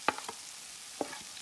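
Red onions go into a pan of frying potatoes for a Guyanese breakfast, giving a faint, steady sizzle with a few sharp utensil clinks near the start and again about a second later.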